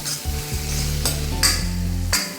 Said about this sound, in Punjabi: ਟਮਾਟਰ ਨੂੰ ਚੰਗੀ ਤਰ੍ਹਾਂ ਭੁੰਨਾਂਗੇ ਪਿਆਜ਼ ਵਿੱਚ